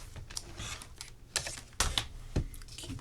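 Computer keyboard typing in a quiet room: several uneven bursts of close, loud key clacks and thumps, with no speech.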